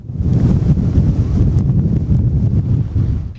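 Heavy wind buffets the microphone in a continuous low roar during a storm with heavy rain in Antalya, loud and close, with no break throughout.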